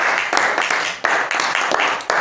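A church congregation claps during worship, producing a dense, close wash of hand claps with strong rhythmic accents roughly every half second, loud and continuous throughout.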